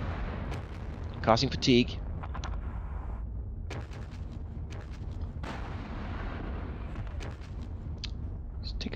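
Rapid gunfire bursts and low booms from Sherman tanks being hit in the Panzer Battles Normandy wargame, irregular shots and rumbling impacts over the clip, with someone talking throughout.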